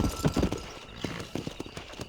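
A horse's hooves beat in quick galloping clip-clops in Red Dead Redemption, close and fairly loud, with uneven strikes over about two seconds.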